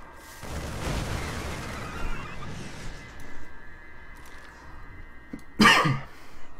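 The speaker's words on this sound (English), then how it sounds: "Man, I just coughed." A StarCraft II commentator coughs once, sharp and close to the microphone, near the end of a stretch of quiet match commentary background.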